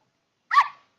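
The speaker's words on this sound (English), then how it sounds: "Where is the dog?" A single short, sharp dog bark sounds once, close and clear, after near-silence.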